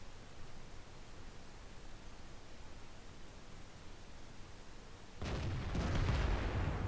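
Steady game hiss runs through World of Tanks until a single artillery blind shot fires near the end. It lands as a loud, muffled boom with a rumbling tail, and no one speaks.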